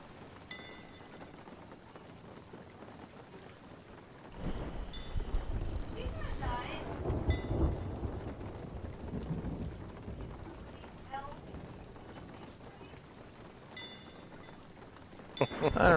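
Storm ambience in a video game: steady rain hiss with rolling thunder that swells in the middle and fades back, plus sharp crackles near the start and end, all fairly low in level.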